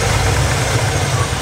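An old truck engine idles close by with a steady, low rumble and faint ticking, constant and unbroken; it may have a vacuum leak.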